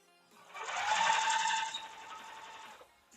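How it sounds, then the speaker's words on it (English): A sewing machine stitches pieced quilt fabric in one short burst, its motor whirring up and running for about two seconds before winding down, close and alone. "Sew these up real quick."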